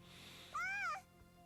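A large cat character in the video game Dragon Ball Z Kakarot lets out a single clear, drawn-out meow lasting about half a second, loud against a quiet game background.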